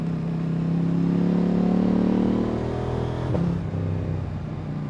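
A motorcycle climbing the Col du Galibier mountain pass, its engine holding a steady, loud drone that dips slightly partway through, with no talk over it.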